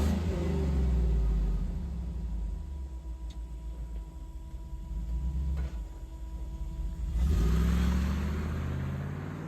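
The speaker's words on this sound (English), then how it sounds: "One more thing, gonna do a couple revs." Revving of an old Toyota Land Cruiser engine, not a 2F, on a restored truck: a steady low idle rumble swells into a couple of loud, close revs and falls back, with no talking.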